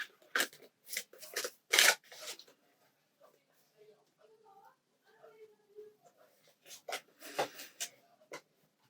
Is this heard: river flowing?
no